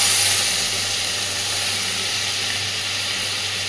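Water splashed into a pan of frying eggplant for a Bengali oily-spicy eggplant dish gives a loud, steady steamy hiss, close and broadband, easing slightly after the first moment.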